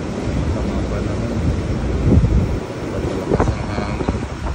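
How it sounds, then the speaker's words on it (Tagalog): Strong wind at sea, roaring steadily against the microphone with rumbling gusts and a faint wash of waves beneath. "malakas ang hangin."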